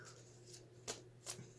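Two quick riffling bursts of tarot cards being shuffled, close and crisp, separated by a short pause in a quiet room.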